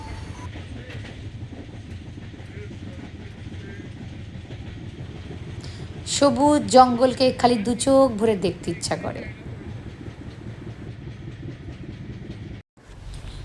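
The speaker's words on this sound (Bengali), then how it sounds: "জঙ্গলের মধ্যে যখন ট্রেনটা ঝিকঝিক ঝিকঝিক করতে করতে যায়" A train runs through green forest and tea gardens near Malbazar in the Darjeeling hills, giving a low, steady rolling rumble throughout; a voice speaks over it midway.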